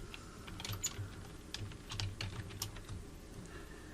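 Quick, soft keystrokes on a computer keyboard fill a Microsoft Word 365 text box, a continuous irregular patter of close, quiet clicks with no talking.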